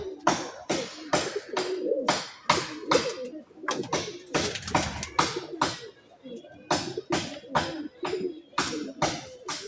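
Benares line pigeons coo in soft, repeated throaty bursts close by, mixed with people talking.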